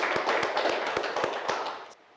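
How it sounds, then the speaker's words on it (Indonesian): Classroom group applauding a team of presenters at a teacher-training session, a dense crowd of hand claps with sharper individual slaps, steady then cutting off near the end. "tepuk tangan dulu untuk grup A Sunan Ampel"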